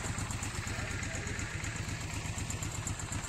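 A motorcycle engine idles steadily with an even, low rumble and light mechanical clatter throughout, fairly close.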